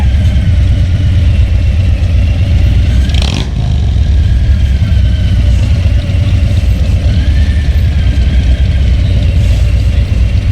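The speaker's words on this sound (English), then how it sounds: "Is that a street bike? Oh no, Softail Standard, I think." A Harley-Davidson Softail motorcycle idles at a street bike night, a loud, steady low engine rumble running continuously close by, with a brief higher swish partway through.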